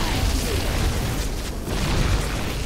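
Repeated explosions of escape pods in the video game StarCraft, a dense rumbling series of booms that fills the whole stretch, loud and close, with a brief dip in the middle.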